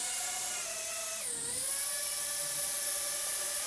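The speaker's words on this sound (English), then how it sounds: "hold it upwards and it'll just activate the props" A Loolinn X26 toy drone's small propellers whine at a high, steady pitch close by, dipping briefly about a second in before settling back into a constant buzzing whir.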